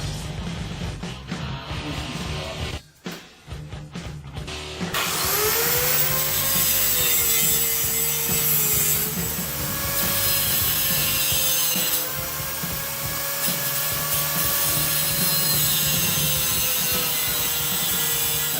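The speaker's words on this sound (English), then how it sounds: "grind it down with, instead of a cutting blade, we're going to be using one of these. For grinding, see?" An angle grinder fitted with a grinding disc works on the steel frame of a 1978 Honda CB750 café racer, a loud continuous grinding whine with shifting pitch running steadily after a few seconds of quieter rubbing and clatter.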